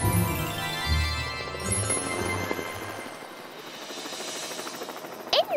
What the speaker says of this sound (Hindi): मॉर्फल, जल्दी से हेलीकॉप्टर बन जाओ।